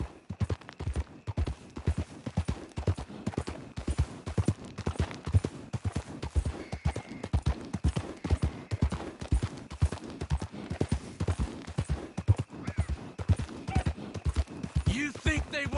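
Steady rhythmic hoofbeats clip-clop throughout, a horse trotting close by in Red Dead Redemption 2 while voices talk over it.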